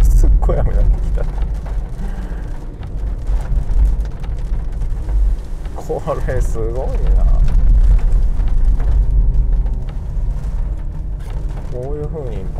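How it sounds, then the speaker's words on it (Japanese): Heavy rain drums steadily on a Honda Insight IMA hybrid as it drives downhill, heard from inside the cabin over a constant low road rumble, with someone talking throughout. "すっごい雨になってきた"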